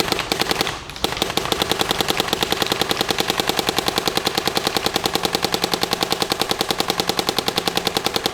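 A Dye DLS paintball marker fires Valken paint in a long, rapid, evenly spaced burst of sharp popping shots, close and loud, after a brief pause near the start.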